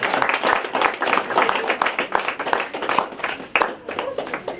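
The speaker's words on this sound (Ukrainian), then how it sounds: "Давайте гучними оплесками привітаємо новостворену" Wedding guests applaud the newlyweds Marina and Ihor as they enter a restaurant reception, a dense, steady wash of many hands clapping close by, with voices mixed in.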